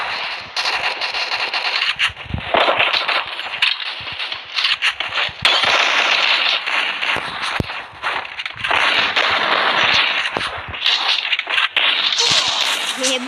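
Rapid gunfire from a Free Fire mobile battle game, with dense crackling bursts and shot volleys running almost continuously for over thirteen seconds, loud and close, with brief dips between volleys.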